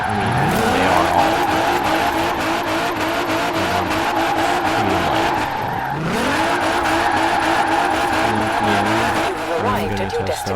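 Formula Drift cars in Forza Horizon 4 slide with continuous loud tire squeal over revving, rising and falling engines, while someone talks throughout.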